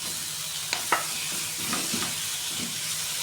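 Meat stirred with sautéed onions in a pan gives a steady moderate sizzle with a few spatula knocks and scrapes near the start.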